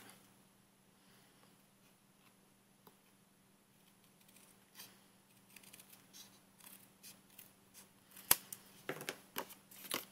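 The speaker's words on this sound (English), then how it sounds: "I'm just going to cut the excess off" Scissors snip away excess paper while a handmade St Patrick's Day card is assembled, a quiet stretch giving way to a string of short, close cutting clicks and crisp snips in the second half.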